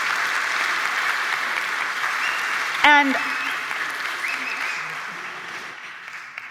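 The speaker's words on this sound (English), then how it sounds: "Just stand and acknowledge, clap, a round of applause for our platform committee." An audience applauds the platform committee at a closing plenary session, steady clapping from a large crowd throughout, with a brief word spoken over it.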